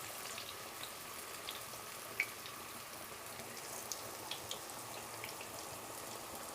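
Bran-coated pieces of liver fry in hot oil, giving a faint, steady hiss dotted with sparse small crackles and pops, with no voices.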